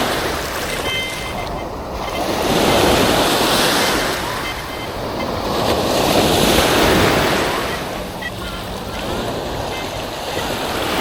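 Ocean surf washing onto a beach as the tide goes out, broad rushing swells rising and falling in slow waves with wind buffeting the microphone, loud and continuous with no speech.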